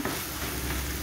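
Okra and celery sauté in a pan, giving a close, continuous sizzle and hiss for about a second.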